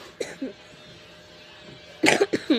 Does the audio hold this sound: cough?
yes